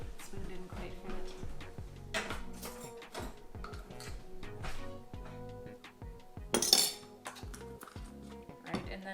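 Light metal spoon clinks and taps against a dish while minced garlic is added to a pan of roasting vegetables, a scattered run of small close clatters with one sharper clank midway and faint talk underneath.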